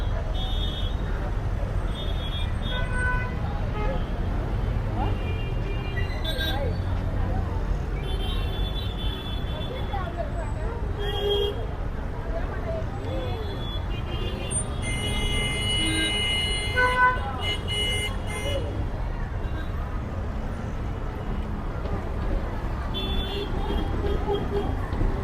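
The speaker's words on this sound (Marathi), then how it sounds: "आता इथे खूप ट्रॅफिक आहे आणि गर्दी पण झाली आहे" Heavy street traffic moves through a crowded market road on the way to a Mahalaxmi temple, a constant rumbling wash of engines with scattered horn toots and vendor calls, busy and close throughout.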